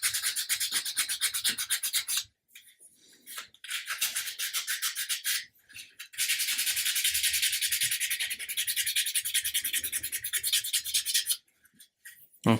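Hand sanding of a carved wooden figure for an Amati 1/80 scale Endeavour model ship, smoothing the grain before paint: steady scratchy rubbing strokes in close bursts, broken by two short pauses and a longer stop near the end.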